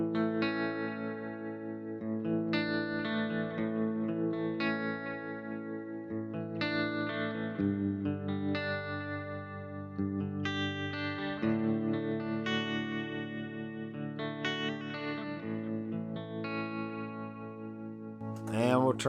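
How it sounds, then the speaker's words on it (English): Electric guitar with delay and tremolo playing strummed chord changes through a Headrush pedalboard into an FRFR speaker, the sustained, slightly distorted chords trailing into echoes at a steady moderate level, with no talk. "let's turn on some delay."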